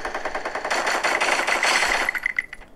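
Rapid automatic gunfire in the mobile shooting game Free Fire, a fast, loud burst of shots lasting a couple of seconds with no voices.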